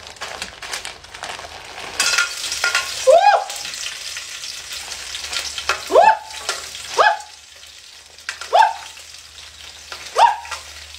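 Onion frying in a pan, sizzling steadily while a utensil stirs and scrapes it in several distinct strokes spaced a second or two apart, close and fairly loud with no talk.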